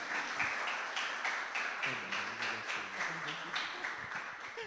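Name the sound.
church congregation applauding Jesus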